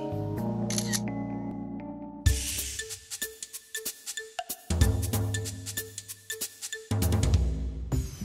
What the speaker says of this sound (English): All right, Mr. Brawley, I'm ready for my selfie.